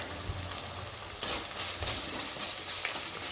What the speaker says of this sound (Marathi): तेल सुटेपर्यंत आपल्याला हे मिश्रण पूर्ण हलवून घ्यायचं आहे